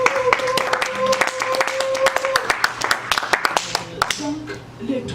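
A church congregation claps and acclaims the Lord during worship, with lively rhythmic handclaps that grow sharper and more distinct toward the end, mixed with voices raised in praise.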